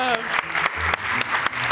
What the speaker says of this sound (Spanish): ¿Y vio cómo aprendieron a aplaudir?